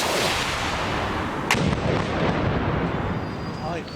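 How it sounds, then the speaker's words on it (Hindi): A powerful explosion at a site where windows shattered and smoke rose, heard as a dense, loud roar of rumbling blast noise with a sharp crack near the middle, continuous across the clip. "जोरदार धमाका हुआ है यहाँ पे"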